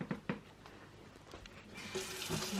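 Tap water runs into a sink as freshly dyed yarn is rinsed under it, starting with a few splashes and handling knocks, then a steadier, louder stream of running water in the last second.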